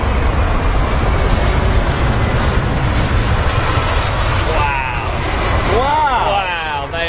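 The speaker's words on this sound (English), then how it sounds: "the United 747 is on its way in" A United Boeing 747 landing at London Heathrow produces a loud, broad jet roar close by, fading slightly as it passes, with people chatting over the noise.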